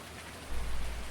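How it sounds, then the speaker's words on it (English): Rain falling in Farming Simulator 19, a steady, even hiss of rain with a low rumble swelling partway through, heard alone. "It's still raining."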